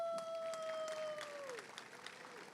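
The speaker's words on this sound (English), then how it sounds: "Give them a round of applause for that one" Audience at a city mayor's State of the City address claps in a modest round, faint and somewhat distant, with a steady tone that slides downward partway through before the clapping thins out.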